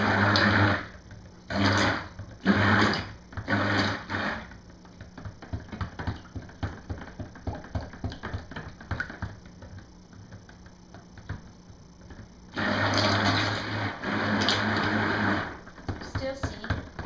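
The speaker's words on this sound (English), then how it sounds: "I'm going to hit it again with a stick blender because I want it smooth" A stick blender whirs through soap batter in two loud bursts, a choppy run of short pulses at first and later a sustained spell of about three seconds, with someone talking in the quieter gap between.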